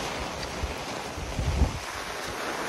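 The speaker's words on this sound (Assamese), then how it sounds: "এই চাওক কেনে গাওঁ পুৰা বতাহ আহিছে" Strong, gusty wind blowing during rain on a village road, roaring steadily and buffeting the microphone, with a few heavier low rumbling gusts and no talk.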